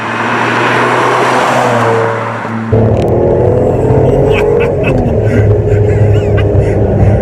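A Ferrari 550 Maranello engine roars with a sharp throttle blip as gears change, the revving rising and dropping over steady road noise.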